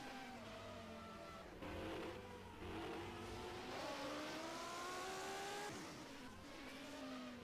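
A 1991 Formula One car with a Judd engine races around the Monaco street circuit, its faint, distant engine note rising and falling through several gear changes and accelerations, with no talk over it.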